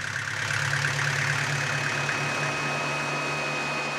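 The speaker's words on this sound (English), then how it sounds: "Using the diesel engine from an old car, he's managed to provide power for his entire farm." An old car's diesel engine idles steadily as a power source on an Amish farm, a continuous low mechanical drone with a faint whine, even and close.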